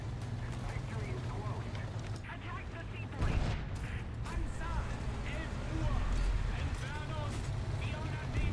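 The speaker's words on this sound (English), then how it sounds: "But now they've buffed this cannon, and you have more penetration, more explosives, and faster reload." A buffed tank cannon fires in the video game War Thunder, one heavy boom landing partway through over a steady engine rumble, with someone talking underneath.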